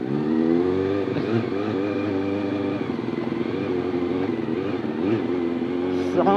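A 400cc superbike engine revs loudly and close up, its harmonic whine rising and falling through several throttle blips over a steady idle, with a sharper rev at the end.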